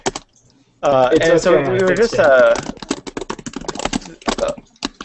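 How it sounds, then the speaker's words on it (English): A computer keyboard clatters loudly during an online group chat, with sharp irregular keystrokes rattling under and between a person's speech. "Your keyboard is assaultive."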